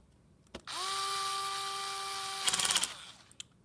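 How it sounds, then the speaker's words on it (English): A torque screwdriver drives screws into a Lenovo Yoga 11e Gen 2 laptop, giving a steady, close whirring motor whine of about two seconds with a brief rattling clatter near the end, alone without talk. "this screwdriver is a torque screwdriver, so when it reaches its torque level, it doesn't turn it anymore"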